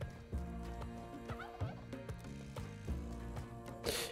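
A turkey in the video game Spelunky 2 gobbles in repeated rattling bursts, mixed with mechanical clicks and a short noisy burst at the end, with no talking.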